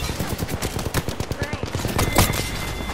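Rapid bursts of video game gunfire crackle steadily and close, a dense rattle of shots with sharper cracks mixed in, while players talk over it.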